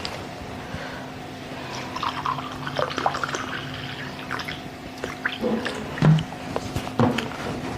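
Water is poured into a glass holding a karungali mala, giving soft intermittent trickles and drips close by in an otherwise quiet room.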